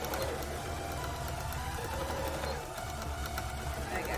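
Free-motion embroidery on a sewing machine for a cosplay piece, giving a steady, close mechanical whir with a fast stitching pulse that runs continuously for several seconds.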